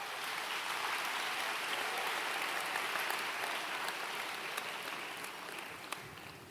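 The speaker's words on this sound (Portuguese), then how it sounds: "Vamos aplaudir esses homens lindos aí." A church congregation applauds in a sustained, dense wash of clapping that holds steady and then tapers slightly toward the end.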